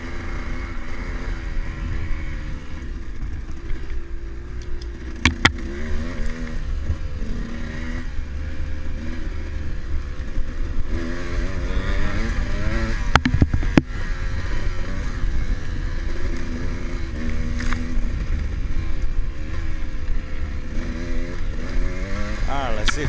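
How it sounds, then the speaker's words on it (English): A dirt bike engine drones and revs continuously during a muddy hare scramble race, its pitch rising and falling under steady wind and clatter, with someone talking over it at times. "You just need to go get on the throttle and just go around him."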